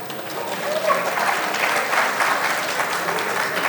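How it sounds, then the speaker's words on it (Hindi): An audience applauds steadily to welcome the writer of the Aspirants web series at a live interview event, a dense, continuous wash of clapping that holds at an even level throughout. "दोबारा तालियों से स्वागत कीजिए"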